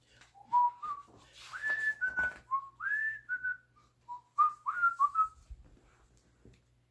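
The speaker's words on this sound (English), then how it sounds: "it began to whistle a walking tune that made the going very pleasant" Someone whistles a light, lilting melody in short phrases, clear and close, with small pauses between the notes.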